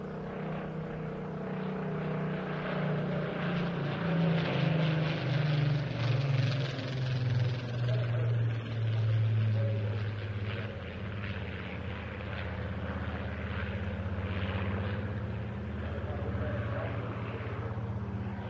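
Spitfire aircraft flying at the Bournemouth Air Festival, a steady loud propeller engine drone that holds throughout with slowly shifting pitch, continuous and fairly close, with no talk over it.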